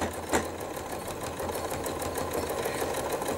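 A sewing machine runs steadily, stitching couched wool onto fabric in a continuous buzzing run, close and alone, with a brief sharp click near the start.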